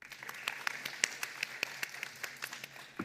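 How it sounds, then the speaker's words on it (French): A small audience at an evening crime-themed café show claps for a performer, a thin, quiet patter of individual claps with distinct separate hits, fairly close and fading toward the end. "On l'applaudit."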